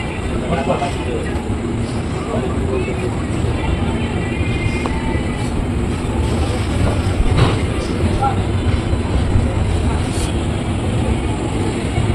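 A steady low rumble and rattle runs throughout, like a train rolling along the tracks, heading away from Puri, with a faint voice heard now and then over the noise.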